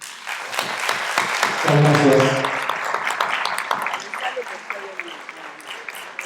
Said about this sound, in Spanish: un enorme aplauso